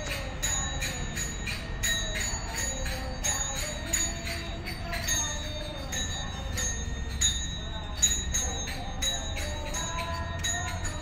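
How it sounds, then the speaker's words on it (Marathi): A large bell hung high at a temple entrance rings in repeated metallic strikes with lingering tones, layered over a busy ambient crowd and steady background noise. "हे प्रवेशद्वाराच्या येथे हा घंटा आहे। खूप मोठे आणि खूप उंचावरती आहे।"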